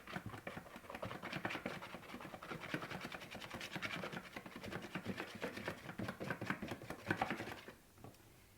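Steady rhythmic scraping of a spoon stirring a thick semolina cream mixture in a bowl, close and fairly quiet, with repeated strokes running continuously before stopping near the end.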